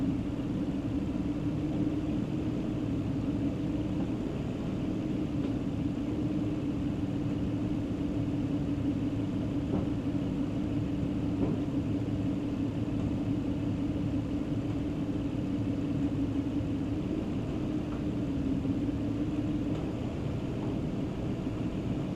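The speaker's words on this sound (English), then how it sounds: "So what I'm going to do now is cycle it through the gears." A 2004 Toyota Camry with a 3.3L engine idles steadily while it is shifted through the gears, giving a low constant hum and rumble at moderate distance with no clear change in pitch throughout.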